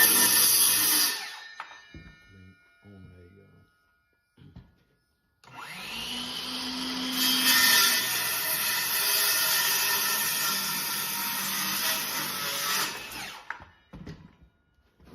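Battery-powered saw fitted with an Irwin blade, a loud whining cut lasting several seconds after a few short bursts and quiet gaps, the motor straining, with no voices.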